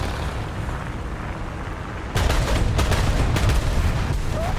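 Tank cannon fire during an M6A1 tank battle in a combat video game: a steady low rumble abruptly jumps louder as a burst of sharp shots and booms hits, followed by continued loud battle noise.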